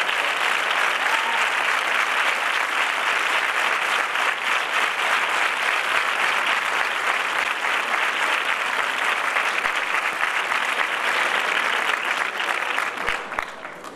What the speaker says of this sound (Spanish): pido un fuerte aplauso para mí